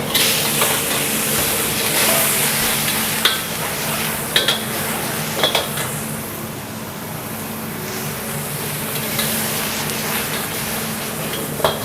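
Seafood capcay stir-frying in a pan gives a steady, loud sizzle under a constant hum. Scattered utensil scrapes and clicks rise above it, and no one speaks.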